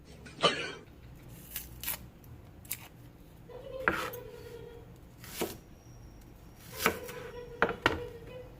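Knife chopping onion for crispy chop chop pata, a few quiet, scattered taps on a board with soft handling noises in between.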